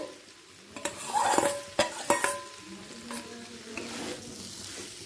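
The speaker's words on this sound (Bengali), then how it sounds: "ডাল আলু এঁচো তিনটে একসাথে ভালো করে কষিয়ে নেব মিডিয়াম ফ্লেমে" Mung dal with fried jackfruit and potato sautéed together over a medium flame, a soft sizzle under several sharp spatula knocks and scrapes against the pan, close and clear, no talking.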